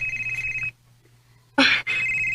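A telephone bell rings in a radio drama: a loud, close electronic ring that cuts off, falls silent for almost a second, then starts again sharply.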